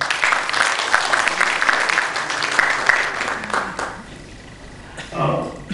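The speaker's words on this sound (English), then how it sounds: "Let's have a huge round of applause for them." An audience at an industry career-guidance talk in finance claps steadily for several seconds, the applause thinning out toward the end as a voice comes in briefly.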